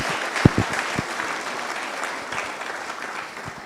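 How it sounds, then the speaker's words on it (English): Applause from a conference audience at a national export conference, a few sharp claps up front settling into a steady, moderate patter of many hands that carries through to the end. "can we give him another round of applause?"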